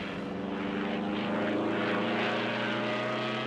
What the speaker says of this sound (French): Le passage de l'avion